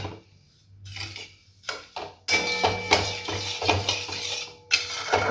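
A spoon scrapes and clatters steadily in a pan of sugar syrup being stirred for rava modak, loud metallic knocks recurring close by with no talking.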